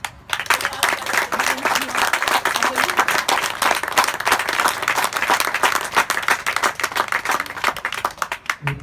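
Sustained audience applause for the guardians at a French gathering, dense steady clapping from many hands lasting several seconds and tapering off near the end.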